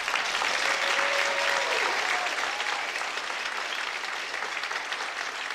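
Concert audience at a county band concert applauding veterans, a dense, steady roar of many hands clapping at moderate distance, continuous throughout with faint background voices.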